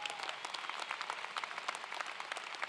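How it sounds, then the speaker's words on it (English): Applause for Mayor Toni Harp at a university commencement, steady clapping from a large audience, fairly distant and even in level throughout. "Can we give Mayor Harp a round of applause, please?"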